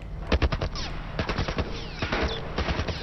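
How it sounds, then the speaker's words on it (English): A military turret in The Last of Us video game fires rapid bursts of loud automatic gunshots, short volleys broken by brief pauses, close and dominant with no talking. "Some kind of military turret."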